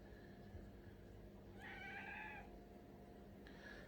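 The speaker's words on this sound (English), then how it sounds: "And now one of my cats is shouting at me" A house cat lets out a single drawn-out meow, fairly near but not loud, over a low steady room hum, followed by a faint short chirp at the end.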